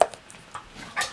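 A dog gives a few short, faint whimpers and soft yips in quick succession, close by and separated by brief pauses, in a quiet indoor room.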